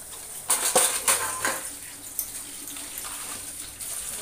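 Basins and pots being washed under running water at a sink, with a few clanking knocks of metal up front and then a steady trickle of water continuing alone.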